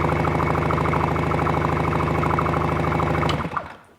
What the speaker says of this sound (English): And wind the throttle on.